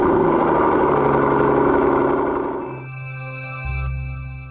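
Brabus G900 XLP Rocket V8 roaring loudly up close, then dropping off to a lower, burbling exhaust rumble and swelling again, with no talk over it.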